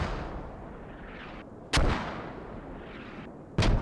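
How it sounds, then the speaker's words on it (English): Mortar rounds land in the tactical shooter game Squad, two heavy booming impacts about two seconds apart, each a sharp loud blast trailing into a rumbling decay, distant and without voices. "Mortars landing at the village."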